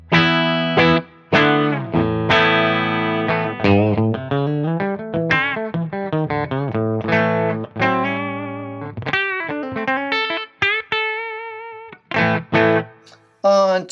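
An electric guitar plays a string of notes and short chords through a thin, bright split-coil tone with light effects, stopping and restarting between phrases.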